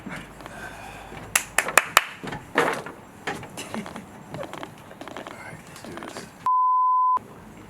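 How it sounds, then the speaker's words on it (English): A single steady electronic beep from recording equipment sounds near the end, clear and alone after a stretch of whispering, claps and soft movement noise. "Is it supposed to beep like that?"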